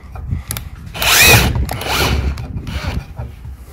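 A power drill bores a hole into a wall panel for a U-bar panel wall, giving a loud close whirring grind in two or three short bursts with brief pauses.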